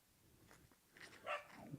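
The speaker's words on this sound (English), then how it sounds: "dog barked right in his throw" A dog barks once or twice, faint and distant, during an outdoor disc golf round, short muffled yips over quiet ambient noise.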